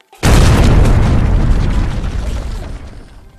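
A sudden loud boom that bursts in and rumbles on for seconds, like an explosion with heavy gunfire blending into the roar.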